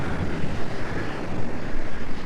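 Strong wind at Simpson Bay, Saint Martin, roaring and buffeting loudly across the microphone in a continuous gusting rush, with no voices.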